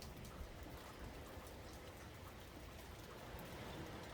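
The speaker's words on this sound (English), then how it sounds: "rain's already stopping" Light rain falls outside near a restaurant, a soft, even patter of drops on surfaces that continues steadily and fairly faint, with no talk.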